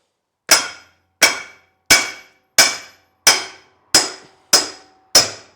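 Eight sharp metallic taps of a lump hammer on a Wadkin machine, evenly spaced about two-thirds of a second apart, each ringing briefly and decaying, close and fairly loud with no talk.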